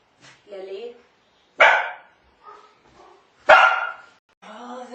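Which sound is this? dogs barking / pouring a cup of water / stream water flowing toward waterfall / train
dogs barking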